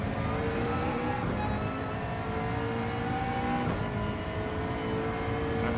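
Race car engine held at full throttle in Gran Turismo 7, a steady, loud, droning tone that climbs slowly in pitch along a straight, with no voices.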